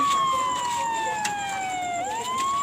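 A wailing siren sweeps slowly downward in pitch, then rises again, loud and close over faint traffic noise.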